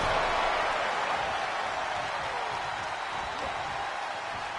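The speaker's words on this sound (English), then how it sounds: "The crowd has indeed come alive now." Arena crowd in the WWE 2K23 wrestling game cheering during an NXT tag match, a steady, dense wash of roaring voices and applause holding at an even level throughout.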